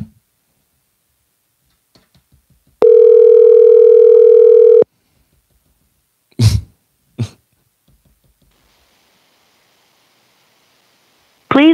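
A telephone rings out on an unanswered call: one long steady tone lasting about two seconds, followed by brief coughs or throat clearing and a short burst of noise at the end.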